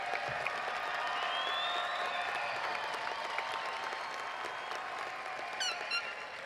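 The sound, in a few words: applause at a high school graduation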